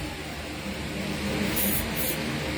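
Two short hissing bursts of spray aimed at the slide stopper of a unit, close and crisp over a steady background hum.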